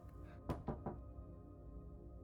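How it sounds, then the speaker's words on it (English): Three firm knocks on a peeling door in a visual novel video game, evenly spaced and close, over a low quiet background hum. "Sarah knocks on the peeling door earnestly."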